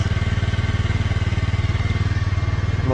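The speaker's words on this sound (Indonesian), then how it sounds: "Motornya sudah hidup sekarang." A Honda Beat scooter with a stock exhaust idles close by, its engine a loud, even, rapid pulsing putter that holds steady throughout with no talking.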